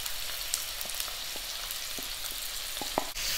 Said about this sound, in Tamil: ஆனியனை நல்லா பச்சை வாசனை போகிற அளவுக்கு நல்லா வதக்கிடலாம் ஆயிலில்